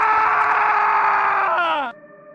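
A desperate human scream in a horror story, loud and sustained for nearly two seconds, the strained voice sliding downward and breaking off abruptly into a dull, low thud and quiet.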